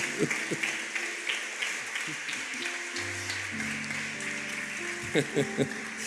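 A church congregation applauds during a sermon, a steady patter of many hands clapping in a reverberant room, with sustained organ or keyboard tones and a few voices underneath.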